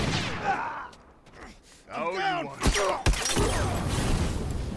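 Shotgun fire in The Last of Us multiplayer, with two sharp loud blasts about half a second apart amid game noise, a shouted voice and bursts of debris.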